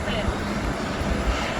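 A passenger plane engine at an airport gives a steady, broad roar for a brief moment, with a voice talking over it.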